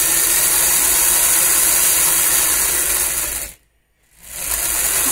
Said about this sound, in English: the potentiometer is going to control the speed of the motor